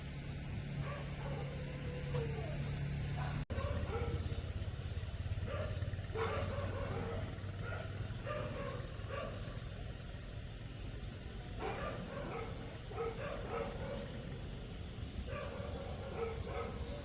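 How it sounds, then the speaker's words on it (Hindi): Many village dogs bark at night from various distances, their scattered yips and barks overlapping throughout against a steady background hum. "गांव के कई सारे डॉग भौंक रहे हैं"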